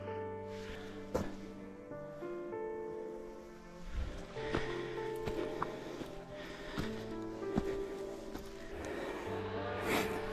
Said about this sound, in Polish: wszędzie słychać piły motorowe